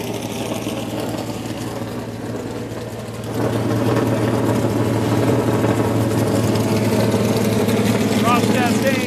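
Race car engines in a NASCAR Xfinity garage idle and rumble steadily, swelling louder partway through into a sustained close drone with garage ambience around them.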